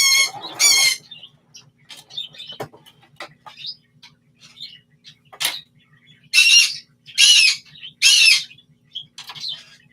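A pet bird squawks in loud, harsh bursts, several clustered near the start and three strong calls late on, with softer chirps between and a faint low hum underneath.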